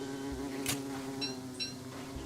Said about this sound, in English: Nice, the infinite bee sound.